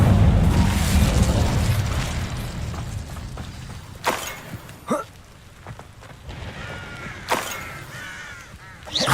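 Bursts of the Incendio fire spell in Hogwarts Legacy: several sharp whooshing blasts over a busy, rumbling game soundscape, the loudest arriving in quick succession near the middle and another shortly after.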